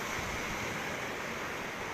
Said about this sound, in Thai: คลื่นเริ่มเยอะขึ้นแล้วนะครับ